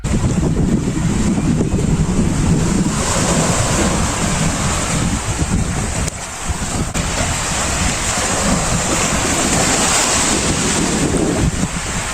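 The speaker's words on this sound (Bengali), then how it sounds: "চলো নিচে সমুদ্রের গর্জন আপনাদেরকে শোনাই" Sea waves crash and roar against a coral beach on St. Martin's Island, a loud, dense, continuous surf rumble mixed with heavy wind buffeting the microphone, with no voices.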